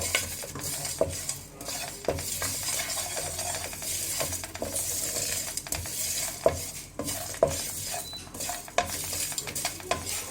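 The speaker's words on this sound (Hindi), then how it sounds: "फ्लेम को स्लो ही रखना है, ज़्यादा तेज़ नहीं कि मसाला जल ना पाए, बस खुशबू आ जाए, इतना सा हमने इसको रोस्ट करना है" Masala for chicken kebab roasting in a pan over a low flame, a soft steady sizzle with frequent spoon scrapes and taps against the pan, close, with no talk.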